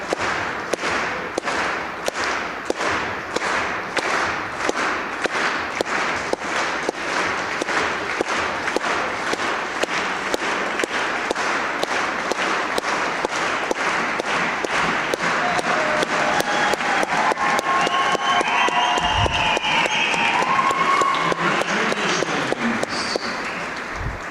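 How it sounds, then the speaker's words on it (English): Spectators and parents at a senior girls' provincial bronze-medal basketball game clap in a steady, rhythmic beat, the sound broadening into dense applause with cheering and squeaks toward the end; loud and continuous throughout. "They're clapping along with the jubilant Wildcat parents."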